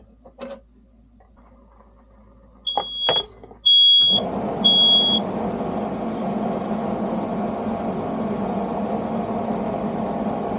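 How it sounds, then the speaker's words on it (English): A smoke alarm goes off indoors with short, piercing electronic beeps, a few separate chirps followed by longer tones, while a louder steady background noise takes over the room. "Smoke alarm."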